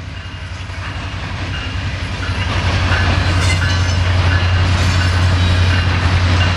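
A BNSF westbound ethanol freight train rolls past in Fostoria, Ohio, a steady, loud rumble of wheels and cars with a low engine drone, building slightly as it passes close by.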